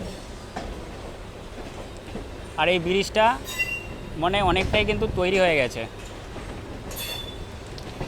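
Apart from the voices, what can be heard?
local train departing Howrah station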